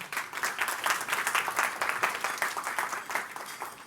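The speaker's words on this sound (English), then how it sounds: "Can we give her a round of applause again?" A summit keynote audience applauds a presenter with moderate, slightly uneven clapping that pulses steadily throughout, fairly close and with no talk over it.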